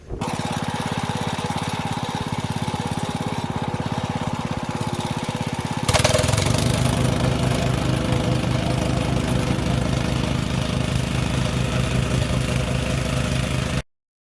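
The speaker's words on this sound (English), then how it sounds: "I'll fire the whacker up and we'll have a play." A petrol plate compactor runs steadily and loudly on its own, with a dense rumbling drone that shifts to a heavier, harder-pounding vibration partway through, then cuts off abruptly at the end.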